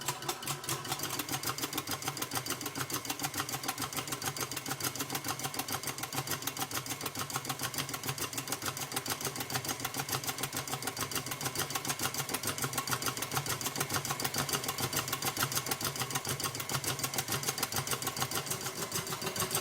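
An electric mixer whips cream toward butter, a steady, fast mechanical whirring hum with a rapid even pulse throughout, moderately near and unbroken.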